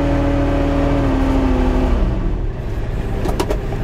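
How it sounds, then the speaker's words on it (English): Kubota RTV utility vehicle engine held on a hand throttle, loud and close, with a strong tonal drone that falls in pitch after about two seconds and settles into a steady idle rumble. "I'm not waiting for the machine to come up to speed."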